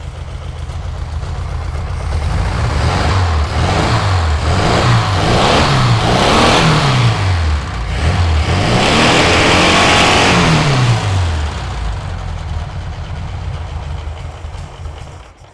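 A cheap dune buggy engine runs and revs repeatedly, rising and falling in pitch with a rough, mid-range mechanical drone, loud and close with no talking.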